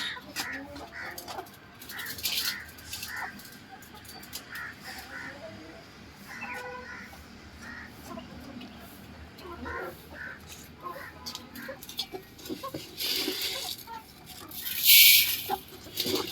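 Chickens at a farmhouse cluck and squawk in scattered bursts, some near and some farther off, with a crow-like caw among them over a low outdoor background.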